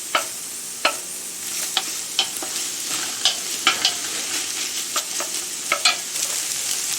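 Onions frying in a dry pan, with a steady soft sizzle under repeated sharp scrapes and clicks of a spoon stirring, close by and with no talking.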